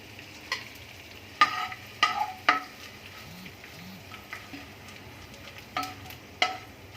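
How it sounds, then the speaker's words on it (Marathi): Edible gum (dink) frying in a pan for fenugreek laddu, giving a low, steady sizzle broken by several sharp scraping clicks of a spoon on the pan, with a couple of soft low bubbling pops midway. "सगळा डिंक आता तळून घेऊ"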